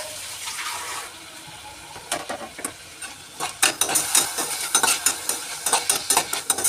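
Tomatoes are mashed and sautéed in a pan for chicken gravy, a soft sizzle under irregular scraping and pressing strokes that grow busier and more rhythmic toward the end, close by with no talk.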